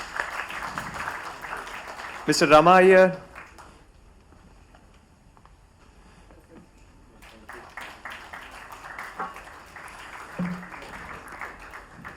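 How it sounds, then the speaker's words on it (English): Applause at a panel event at IIT Hyderabad, a round of clapping from the audience in the hall that swells and fades, with a voice announcing names before and after. "Can we have a round of applause?"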